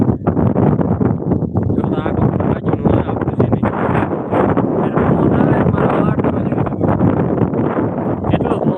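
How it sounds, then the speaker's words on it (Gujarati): Loud, constant wind buffeting hard throughout, a roaring rush that never lets up, in stormy, rain-like weather at Jam Khambhalia, Gujarat. "ઓ અરે અરે બહુ પવન"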